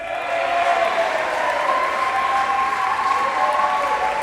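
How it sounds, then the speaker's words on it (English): A large graduation audience at the University of Manchester cheers and applauds, a steady dense roar of clapping with whoops and shouts running evenly throughout, loud and close. "Well done, that's a cheer."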